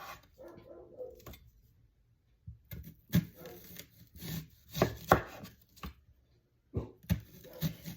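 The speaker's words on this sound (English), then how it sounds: "So we're just gonna slice it real thin." A kitchen knife slices an onion into thin rounds on a cutting board, giving sharp, uneven cutting strokes with short pauses between bursts, close and fairly loud, without speech.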